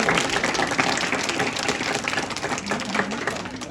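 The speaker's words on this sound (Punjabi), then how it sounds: "ਤੁਹਾਡਾ ਜੋਰਦਾਰ ਤਾੜੀਆਂ ਇਹਦੇ ਲਈ" An audience at a school ceremony honouring teachers and high-scoring students claps steadily, a dense and fairly loud round of applause with no talk.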